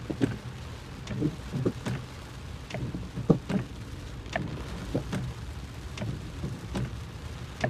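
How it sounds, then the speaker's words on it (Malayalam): Rain drums on a moving car during a heavy downpour on a fog-covered, waterlogged road with a broken wiper, a steady patter broken by repeated sharp drop and wiper-like knocks, fairly close and moderate in level, without talk. "ഇതാ മഴ മക്കളെ, ഒരു രക്ഷയില്ലാത്ത മഴ"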